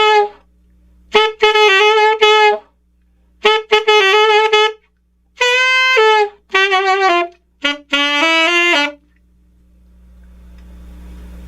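The catchy riff is played on an alto saxophone, loud bright phrases in short repeated bursts with pauses between, ending in quiet room hiss.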